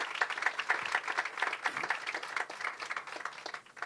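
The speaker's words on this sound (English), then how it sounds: "So I want to give them great round of applause." A small audience claps at a groundbreaking ceremony for a new Springfield facility, the claps faint, distant and fairly sparse, tapering off over a few seconds.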